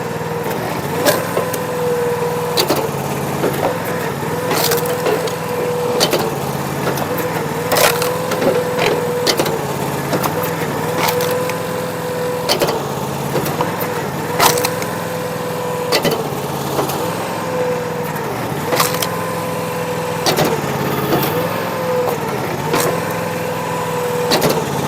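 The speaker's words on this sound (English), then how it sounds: "This Allwood Logsplitter is so quick. It takes a lot of work out of firewood." An Allwood log splitter resplits firewood rounds: a steady engine drone that dips as the ram loads, broken by repeated sharp cracks and splintering of wood, close and loud with no talk.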